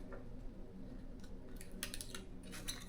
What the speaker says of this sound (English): And then I cut out some little stars.